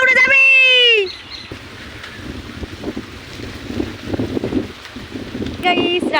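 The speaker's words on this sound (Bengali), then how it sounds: "কি বাতাস হচ্ছে, উড়ে যাচ্ছে, সব উড়ে যাচ্ছে" Strong stormy wind gusting around a house and its kitchen, a broad rushing roar that swells and surges steadily, with a voice calling out at the start and again near the end.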